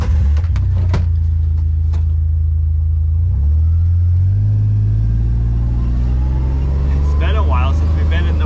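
A utility vehicle (Mule) engine rumbles low and loud as it drives off and climbs into muddy logged woods, pitch rising and settling as it moves, with clicks and knocks early and brief voices near the end.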